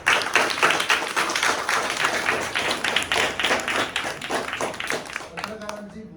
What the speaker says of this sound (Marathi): हे ज्यांनी दिलं त्यांच्यासाठी टाळ्या वाजवा बरं